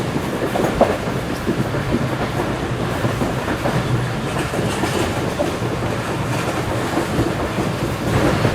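The Karakoram Express passenger train, running on a new rake between Karachi and Rohri, gives a steady loud rumble from inside the carriage, with rhythmic wheel clatter over rail joints and no voices.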